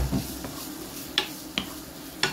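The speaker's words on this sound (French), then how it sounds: "je vais vous faire revenir mes petits oignons qui ont été archi émincés" Finely sliced onions fry in a pan with a soft steady sizzle, broken by a few sharp clicks and scrapes of a utensil stirring against the pan.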